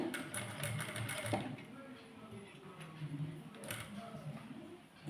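A sewing machine stitches canvas into a cut-work piping blouse, its quick mechanical ticking running fairly close, with bursts of rapid stitching and some background voice.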